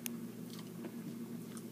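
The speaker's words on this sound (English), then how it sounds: "They're really kind of hard to chew." Hard pure sugar sticks being chewed close up, faint crunchy bites over a steady low hum, with no talking.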